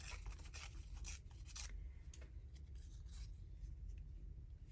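Paper torn by hand for a craft collage, with a few quick scratchy rips early on and then softer rustling and scraping, close but quiet over a low background hum.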